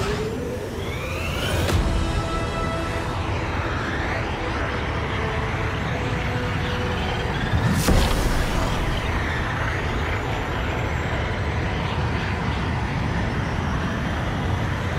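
A starship's hyperdrive spooling up and jumping in Star Wars Outlaws, a steady dense rushing roar with rising whines and two sharp bursts of surging energy, loud and sustained throughout.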